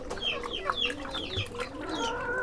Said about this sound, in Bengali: আমার কাদারনাথ মুরগি দেখতে পাচ্ছেন